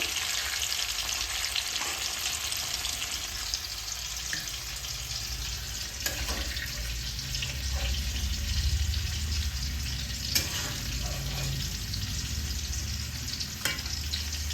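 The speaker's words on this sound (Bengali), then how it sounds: "ফুলকপিগুলো আমার এইভাবে ভাজা হয়ে গেছে, আমি তুলে নিয়েছি।" Cauliflower fries in hot oil with a continuous close sizzle, broken by occasional spatula scrapes and soft clinks as pieces are lifted out.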